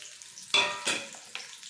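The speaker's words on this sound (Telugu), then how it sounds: "ఇప్పుడు ఇందులోకి ఆనియన్స్ వేస్తున్నాను" Onions drop into hot oil for a dhaba-style paneer peas curry, giving a sudden close burst of sizzling that surges twice in quick succession and then settles into softer frying crackle.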